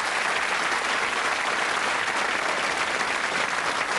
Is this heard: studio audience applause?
yes